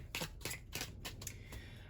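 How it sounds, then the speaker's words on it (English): A tarot card deck being shuffled, a handful of quick, crisp riffling bursts in an uneven rhythm, soft and close, with no talking. "Let me just shuffle up the tarot deck real quick."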